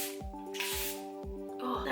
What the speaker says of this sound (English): I'm just gonna go in with the Charlotte Tilbury setting spray.